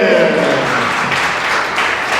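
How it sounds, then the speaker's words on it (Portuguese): A church congregation applauds in a loud, full burst of clapping that swells partway through, with a voice heard under it at the start. "Dá uma salva de palmas bem bonita aí."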